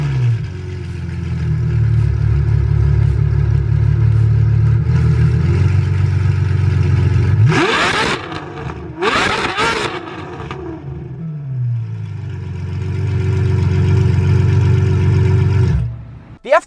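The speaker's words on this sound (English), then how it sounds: "let's shut this and fire up that crazy sounding V12" A Ferrari F12 with its V12 engine cranks and fires up loudly, then revs hard twice in sharp roaring bursts before settling into a deep, steady idle close by.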